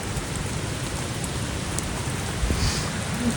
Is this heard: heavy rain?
yes